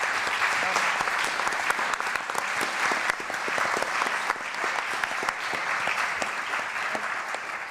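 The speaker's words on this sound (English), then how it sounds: "Let's give them all a round of applause." A live audience applauds a discussion panel at a talk on involved fatherhood and gender equality, a dense, steady wash of many hands clapping together, close and sustained throughout with no voices over it.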